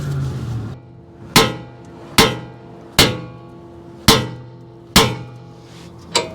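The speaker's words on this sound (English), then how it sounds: "You're just hitting this part of the knuckle, and that will shock this and break the taper and drop this down." Six sharp, ringing hammer blows land about once a second on the steering knuckle of a 4.6L V8 Toyota Tundra to break the tie rod taper, each strike close and loud with a quick decaying ring.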